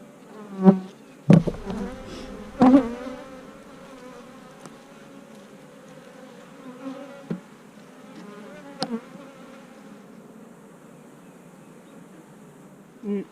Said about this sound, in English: These are nice, calm bees because normally they'd be pretty mad right now.